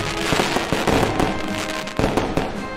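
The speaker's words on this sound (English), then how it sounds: "do my little, you know, green screen chroma color special effects stuff with it, so I can have fireworks" Fireworks sound effect: a rapid string of sharp crackling pops and bangs bursting irregularly over a sizzling, hissing bed, loud and close, with no talking.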